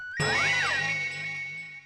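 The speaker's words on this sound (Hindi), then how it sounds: "ये देखो घंटी बज रही है, आप ही का होगा" A phone rings with a bright, warbling electronic jingle, close and steady, sounding alone for a couple of seconds.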